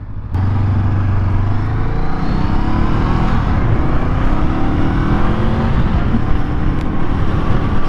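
Honda Scrambler SCL500 motorcycle accelerating smoothly, a steady loud engine drone with rising pitch held throughout, close to the rider with continuous wind noise.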